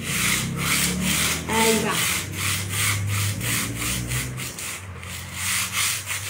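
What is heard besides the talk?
sanding wood vertically with sandpaper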